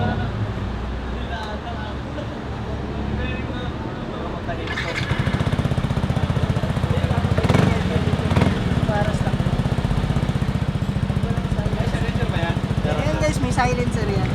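Yamaha NMAX 155 scooter fitted with an Akrapovič full exhaust idles with a low rumble, then revs to a louder, throatier burble that holds steady, heard close up.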